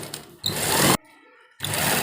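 Sewing machine running in two bursts while stitching lace along a readymade kurta for double stitching, each a dense steady whir of about half a second, separated by a short quiet pause, loud and close.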